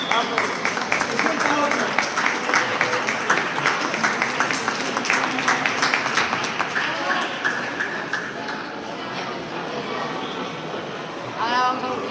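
A small group cheers and claps at a burpee challenge in Pasaje de Lobares, Albacete, with a steady run of hand claps under excited shouting voices that tapers off toward the end.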